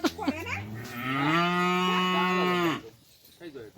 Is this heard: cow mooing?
yes